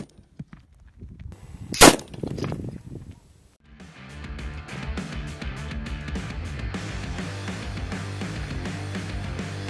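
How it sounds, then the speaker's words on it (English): A .308 armor-piercing rifle round fires at a 4-inch iron ball outdoors, one sharp loud crack followed by a short ringing echo, then a steady background rumble. "Let's do the armor piercing round."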